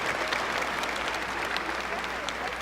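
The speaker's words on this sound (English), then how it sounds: "A smattering of applause." A faint, thin smattering of audience applause, even and continuous throughout, with no distinct voices on top.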